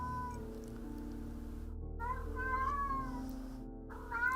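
A cat meows a couple of times in the video game Don't Escape, rising and falling cries layered over a steady bed of background music.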